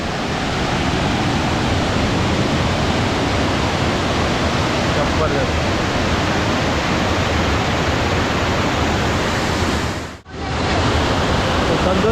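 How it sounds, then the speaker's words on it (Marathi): Water pouring over a dam on the Indapur–Pali road in steady rain, a loud, continuous broadband roar that fills the whole clip with a brief dip near the end; a short spoken exclamation is heard. "मस्तपैकी पाणी पडतं इकडे तर मित्रांनो पाण्याचा फ्लो बघू शकता तुम्ही मस्त असा पाण्याचा फ्लो आहे"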